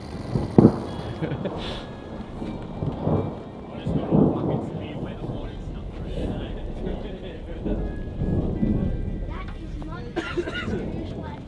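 Thunder rumbles and cracks over steady rain, with gusty wind noise on the microphone and people talking intermittently.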